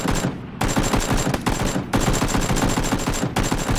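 Rapid automatic gunfire in the battle royale game PUBG, loud close bursts of shots with a few short gaps between them, no talk.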